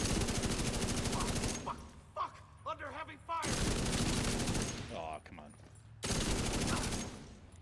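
Heavy sustained automatic gunfire in The Division 2, loud continuous rattling in three long stretches separated by short gaps where a voice and sharper game effects come through.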